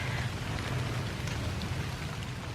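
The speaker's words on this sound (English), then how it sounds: "It's beginning to rain a little bit harder." Steady rain falling on a garden at the end of October, a dense continuous hiss of drops on leaves and ground, fairly close and unbroken, with no voices.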